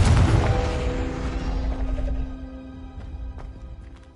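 A Confringo fire-blast spell from Hogwarts Legacy bursts loudly at the start, then rumbles and rings away over several seconds, with faint clicks in the tail.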